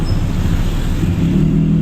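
Road traffic in La Trinidad, Benguet, heard from inside a vehicle in congestion: a steady low engine rumble and road noise, close and constant, with a slight rise in engine hum near the end and no talking.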